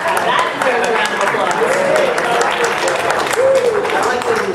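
Applause rises from a crowd at a Mattel DC toy panel at San Diego Comic-Con 2011, loud and sustained, with a voice speaking over the clapping.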